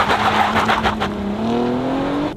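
A car launches hard using launch control, the engine note climbing steadily in pitch with some tire noise, loud and close, alone without talk.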